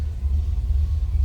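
A 1957 Chevrolet Bel Air two-door hardtop with a small-block Chevy engine runs at a steady idle, giving a deep, continuous low rumble close by with no talking.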